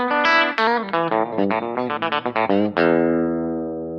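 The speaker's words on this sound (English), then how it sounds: "Then the back coil on its own, coil-tapped" A bright, twangy electric guitar lick with distortion through the coil-tapped bridge pickup, a fast run of picked notes ending in a sustained chord that rings out and fades.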